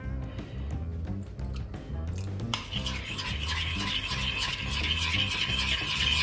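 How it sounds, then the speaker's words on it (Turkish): Spoon or whisk stirring yogurt starter in a bowl for homemade goat milk yogurt, a steady scraping, clinking rhythm close by that grows busier and brighter partway through, with no talk. "diğer mayaları çırpıyoruz"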